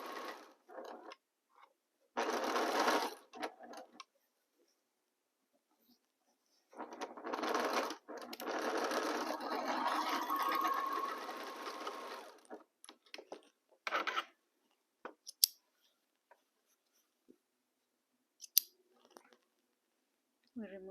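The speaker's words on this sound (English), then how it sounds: "Our fingers will align the fabrics and continue sewing." Sewing machine stitching fabrics together, several bursts of rapid mechanical running separated by pauses, followed by scattered clicks and small handling sounds.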